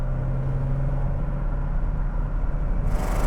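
A Fiat 130 coupé engine fed by triple carburettors rumbles steadily from inside the car while driving, a low, even drone with no talk.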